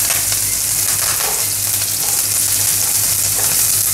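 Curry leaves sizzle in hot oil, a loud close hiss and crackle with no pause.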